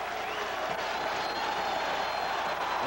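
A college football stadium crowd at a Notre Dame home game against Pittsburgh makes a steady, distant, fairly faint roar with scattered applause, with no speech on top.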